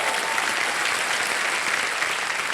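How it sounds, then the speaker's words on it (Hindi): Steady, dense applause fills the room from the studio audience of a televised quiz show, a close wash of many clapping hands. "तालियां बज जाए इनके लिए।"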